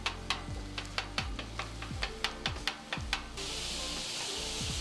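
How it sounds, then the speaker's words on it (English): Rhythmic knife chops on Cajun turkey frying in oil, a dozen evenly spaced sharp strikes over a continuous sizzle that carries on alone once the chopping stops. "I just start chopping it up"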